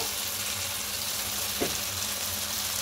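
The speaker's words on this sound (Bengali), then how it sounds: "খুব ভালো করে একটু কষিয়ে নেব" Spices and masala frying in a pan, a continuous close sizzle with a brief stir or scrape partway through.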